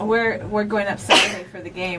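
A sharp, noisy sneeze bursts out in the middle of conversation, with people talking before and after it.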